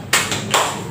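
A class performs the tepuk salut clapping routine together: two broad, sharp bursts of group clapping about half a second apart, close and fairly loud, with no voices over them.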